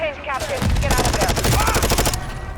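Rapid automatic gunfire and explosive bursts from Call of Duty Mobile fill the scene, a dense, loud barrage of repeated shots running for about two seconds before easing off.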